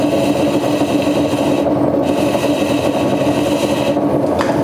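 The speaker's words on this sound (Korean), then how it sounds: "조금씩 칼이 들어가고 있습니다" A knife steadily shaves a plaster mold down to a profile for slip casting, giving a continuous close, dry rasping scrape with brief pauses between strokes.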